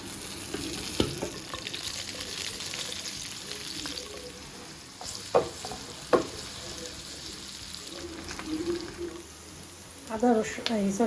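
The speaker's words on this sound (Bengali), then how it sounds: "মাছের তেল দিয়ে রান্না করবো, তেল ভাজার পর যে তেলটা ওইটা দিয়ে রান্না করবো।" Onion, garlic and spices sizzling in leftover fish-frying oil, a steady close frying hiss broken by sharp stirring clatters and scrapes, with a voice speaking at times.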